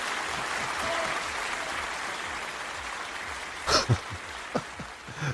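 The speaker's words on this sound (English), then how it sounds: "The elves there clapping before I even said anything." A small audience claps steadily, a sustained patter of applause, with a few brief louder bursts near the end.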